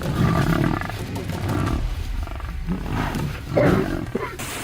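Lions hunting buffalo give deep, rumbling roars and growls that are loud and close, running almost without a break, with a louder roar near the end.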